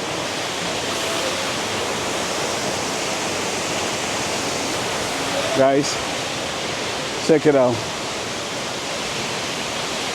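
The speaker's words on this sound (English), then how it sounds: "The second stage of the waterfall." A roaring multi-stage waterfall on a southwestern outdoor trip, a loud steady broadband rush that fills the whole clip, with brief excited voices breaking in about two-thirds of the way through.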